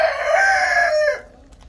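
A rooster among wild chickens gives a single loud, close crow lasting just over a second, followed by quiet.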